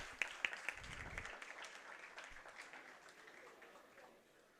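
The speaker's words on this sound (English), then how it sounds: "Let's give him a thundersome round of applause for his remarkable achievements." Applause at the IEEE Delhi Section 2025 inaugural ceremony, fairly faint and distant, starting with a few sharper claps and then settling into a steady patter that slowly fades.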